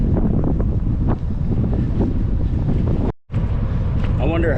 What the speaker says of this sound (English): And we got the headwind. So headwind's gonna be a challenge on this ride today.